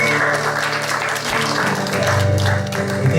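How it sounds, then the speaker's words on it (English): A crowd at a live music pre-show applauds a teenage guitarist, steady clapping and cheering mixed with a sustained musical tone and some background chatter. "give him that round of applause"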